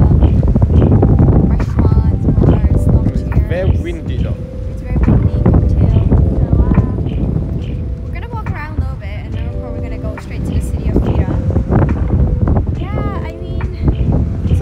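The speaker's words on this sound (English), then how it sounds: "It's very windy too." Strong gusts of wind buffet the microphone with loud, rumbling bursts at a beach on Santorini, while voices talk intermittently over the blustery noise.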